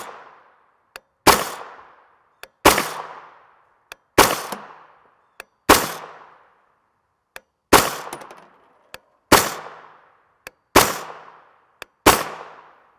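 Nine sharp gunshots from a 9x19mm firearm loaded with 147gr FMJ AAC ammunition, fired at a steady pace roughly a second and a half apart, each a loud crack with a ringing decay and a faint click just before it.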